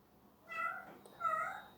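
A cat meows twice, two drawn-out, fairly quiet calls close by, spaced about half a second apart with no voices around them.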